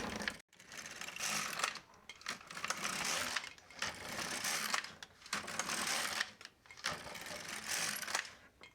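A domestic knitting machine carriage knits rows for a picot hem with eyelets, a loud mechanical whirring sweep repeating in steady passes about every two seconds, separated by brief pauses.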